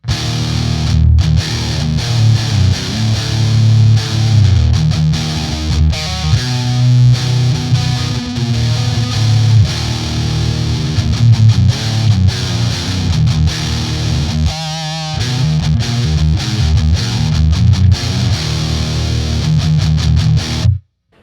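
Electric guitar through an Electro Harmonix Soul Food overdrive pedal, distortion set at 12 o'clock, playing loud chugging metal riffs with palm-muted rhythm, one brief gap partway through, then ringing to an abrupt stop.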